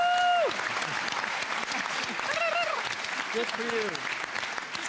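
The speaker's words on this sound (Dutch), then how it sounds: "Klappen." A studio audience at the final of the Dutch reality show Wie is de Mol bursts into steady applause, a dense clapping wash running throughout, with a brief spoken remark and laughter on top.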